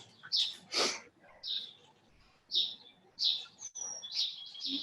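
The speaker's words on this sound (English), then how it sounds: "It sounds like you're in a bird sanctuary." Birds chirp outside an open back door, with several bright tweets in irregular bursts, fairly clear and near, over a quiet background with a faint voice.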